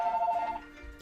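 A telephone rings with a brief electronic warbling tone, fairly close and loud, then cuts off into quiet room sound.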